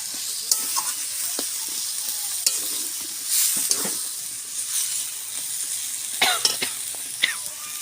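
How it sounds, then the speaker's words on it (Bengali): Chicken mince stir-frying in a pan for chicken keema curry, a continuous close sizzle broken by scraping stirring strokes and occasional spatula knocks, with no talk. "এবার আমি ভালো করে এটা কষিয়ে নেব"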